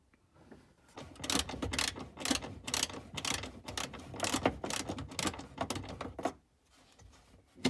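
A socket ratchet undoing 10mm nuts on a Lexus IS200 rear bumper, a rapid close clicking that runs in bursts for several seconds, then stops and resumes briefly at the end.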